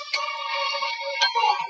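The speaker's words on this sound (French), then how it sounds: "La notification ici." A bright, tonal notification chime from the Halloween update of the video game 99 Nights plays twice in quick succession, loud and clean against a silent background.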